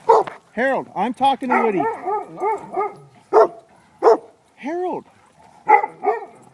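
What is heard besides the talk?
dog Woody barking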